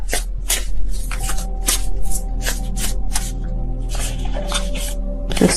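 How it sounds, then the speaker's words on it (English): Tarot cards are shuffled by hand in a rapid run of crisp riffling bursts, each a short papery flutter repeating close up with brief gaps between, under a low steady hum. "I don't know what's going on with my shuffling right now."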